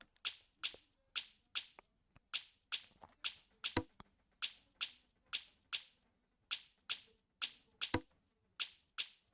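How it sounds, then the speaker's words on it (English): Afrobeat drum pattern programmed in FL Studio: crisp snap-like percussion hits in a steady, syncopated loop, bright and dry with faint low thumps underneath, quiet overall and with no voices. "the drums that I have for now, they sound like this."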